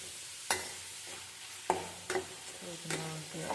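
Curry leaves fry in hot oil on a low flame for tomato chutney, with a soft sizzle and a few sharp crackles and spoon scrapes heard close up and quiet.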